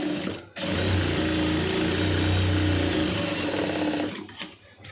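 A sewing machine runs steadily for about three and a half seconds while stitching a blouse lining, loud and close with an even mechanical hum, stopping briefly before and after the run.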